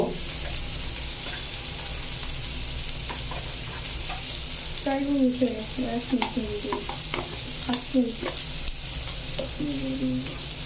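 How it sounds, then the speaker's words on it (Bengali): Chili, coriander and cumin spices being stirred and mixed in a hot pan, with a steady sizzling fry underneath and repeated scraping strokes of a utensil, close and continuous, no talking. "ধনিয়ার গুঁড়ো দিয়ে দিলাম, মরিচ, ধনিয়া, জিরা দিয়ে মিশ্রণ করে নিলাম"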